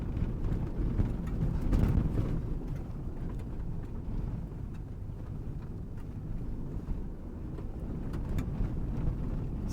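A new Toyota Land Cruiser hybrid drives off-road in four-wheel-drive high, giving a constant low rumble of engine, tyres and wind buffeting with scattered bumps and rattles over uneven ground.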